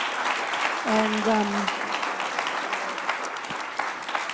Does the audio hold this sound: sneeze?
no